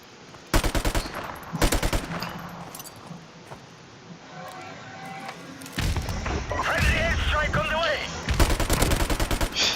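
MP44 assault rifle fire in a first-person shooter, sharp bursts of rapid shots in short clusters separated by quieter gaps, with game effects and clatter between volleys.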